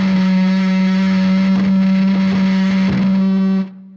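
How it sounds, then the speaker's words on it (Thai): A loud, sustained feedback howl from an acoustic-electric guitar through heavy distortion, holding one droning pitch before cutting off abruptly near the end. "ถ้าพอคุณเปิดปริมาณเสียงแตกแรงๆเนี่ยมันจะเกิดการหึงกัน"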